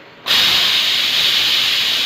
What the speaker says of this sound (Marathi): आता मी कुकरमधली हवा काढत आहे